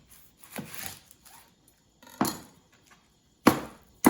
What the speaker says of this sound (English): first and foremost, cut it in half.